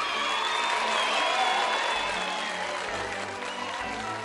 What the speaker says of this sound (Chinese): 翡翠城里的子民也都热情地簇拥了过来，沿途帮陶乐斯他们鼓掌欢呼。